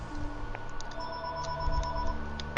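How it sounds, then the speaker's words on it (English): A home telephone rings with repeated electronic tones over steady background sound from a game, fairly close and clear. "Oh no, not the home phone."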